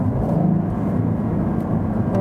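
A Cadillac ATS-V 3.6 V6 sedan in sport mode shifts down from third to second, a loud, close engine rumble running through the whole short stretch.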